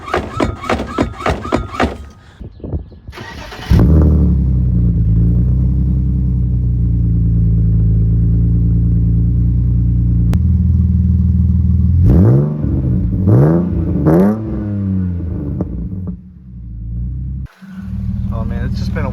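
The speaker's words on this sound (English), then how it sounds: "The engine isn't really warm, so I don't want to rev it too high" A BMW car engine starts with a loud rumble, idles, then blips through several sharp revs rising and falling, with a brief gap and another start near the end; a person talks over parts of it.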